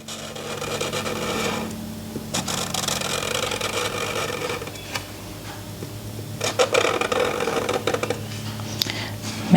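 A black marker drags across paper while a large drawing is inked, giving close, continuous scratchy rubbing strokes with brief pauses between them and no voices.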